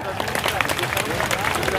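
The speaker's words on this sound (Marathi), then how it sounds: "एकदा जोरदार टाळ्या" A crowd at a large protest march rally in Parbhani claps loudly, a dense, steady patter of applause running throughout with murmuring voices underneath.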